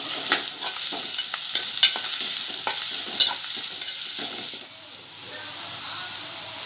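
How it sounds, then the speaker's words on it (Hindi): Chopped onions fry in oil in a pan over a high gas flame, hissing and sizzling steadily, with sharp stirring clicks scattered through and a brief dip in intensity near the end. "अब प्याज डालूंगी कटी हुई, और इसे नरम होने तक तलूंगी बड़ी आंच"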